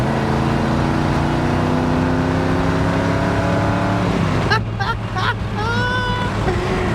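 A 1979 Dodge Li'l Red Express pickup truck's V8 engine rumbles loudly and steadily, then gets a quick blip of throttle near the end, with the revs rising and falling in a short, sharp burst.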